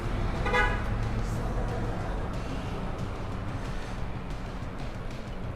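Car horns honk repeatedly from nearby traffic, a loud toot early on followed by steady road and engine noise throughout.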